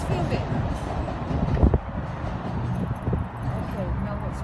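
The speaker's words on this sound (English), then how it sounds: "That's a normal train. Show them what a normal train looks like." A train rolls past with a low rumble and a few metallic clanks, while people talk nearby over the passing cars.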